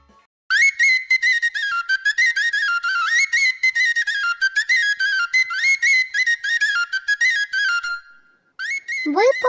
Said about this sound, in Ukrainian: Це сопілка так звучить